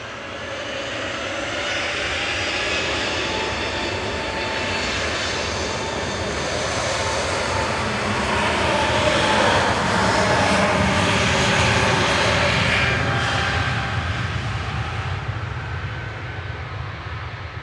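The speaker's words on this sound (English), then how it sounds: "Lufthansa nach München, Flug 2505, flight 2505 over to Munich. This is DAINX and A320neo." Lufthansa Airbus A320neo departing Manchester Airport at blue hour, a loud, sustained jet engine roar that builds slightly toward the middle and holds steady throughout, with no voices over it.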